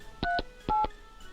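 Two telephone keypad tones dialed in the game Mon Bazou, each a short, clean beep in quick succession, loud and close with no talk over them.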